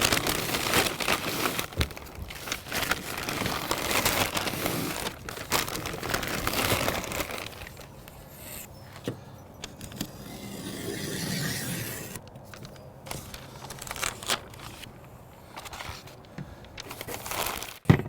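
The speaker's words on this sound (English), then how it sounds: "I'm gonna wrap this in butcher paper" Brisket being wrapped in butcher paper beside a Lonestar Grillz offset smoker, with close, loud crinkling and rustling of stiff paper for the first seven seconds or so, then quieter, intermittent rubbing and folding sounds.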